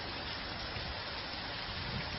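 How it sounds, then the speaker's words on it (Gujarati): Dense, steady hiss of heavy rain pouring down in a Kutch village, an unbroken wash of noise with no voices. "રાપરના પલાસવા ગામે ધોધમાર વરસાદ પડ્યો"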